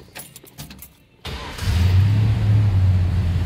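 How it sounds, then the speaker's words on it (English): A 1937 Ford sedan engine cranks briefly, catches, and settles into a loud, steady idle close by, with a low rumbling drone. "Let's go ahead and fire this up so you can hear it run."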